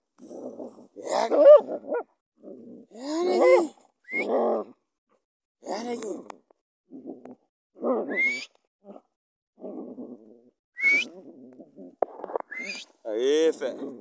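A dog barks repeatedly in short bursts with brief pauses between during a horse hunt, alongside chirping birds and occasional voices nearby.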